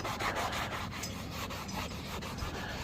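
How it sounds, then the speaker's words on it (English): Steady scrubbing on a Foxbody Mustang interior part, working off paint stripper residue with quick back-and-forth rasping strokes, close and continuous with no talk. "Just get in there and scrub it down and get it clean."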